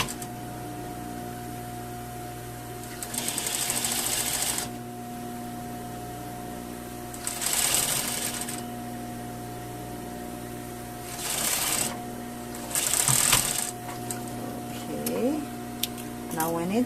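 A sewing machine stitches the fall of a collar seam in four separate bursts of rapid whirring, each lasting one to two seconds. A low steady hum continues through the pauses between them.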